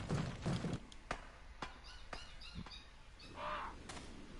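Crows cawing in the video game Resident Evil 4: several harsh squawks and caws at irregular intervals, moderately distant, over quiet game ambience with a few sharp clicks.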